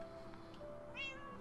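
A single cat meows once after eating, a short rising-and-falling call over a steady indoor hum.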